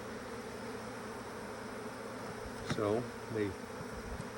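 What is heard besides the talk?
honeybees buzzing after being shaken from a frame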